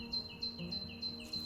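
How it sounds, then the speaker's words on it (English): Thin, high bird chirps repeat in a regular pattern over a quiet, steady background hum; the calls sound faint and somewhat distant. "All we can hear is the birds singing in the trees, can't we?"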